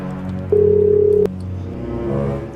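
A single clear electronic telephone tone sounds for under a second while a man dials to call his wife. It plays over a low background hum, with no other tones after it.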